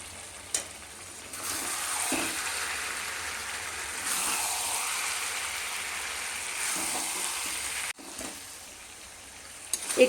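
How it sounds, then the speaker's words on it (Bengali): Mutton sautés slowly in a pan over medium heat, a steady close sizzle and crackle of frying meat that swells and eases as it is stirred, with brief scraping and clattering breaks. "মিডিয়াম আঁচে রেখে এবার মাটনটাকে ধীরে ধীরে কষাতে হবে"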